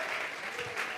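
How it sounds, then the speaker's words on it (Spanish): A congregation at a church service claps steadily as an offering of applause to God, a dense, continuous wash of hands filling the room. "Vamos a regalarle ofrenda de palmas al Dios de la gloria."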